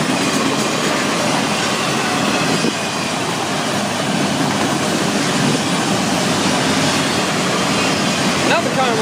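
Florida East Coast freight train cars, including intermodal and trailer cars, roll past close by with a continuous loud rumble and steady clickety-clack of wheels over rail joints, a faint squeal near the end.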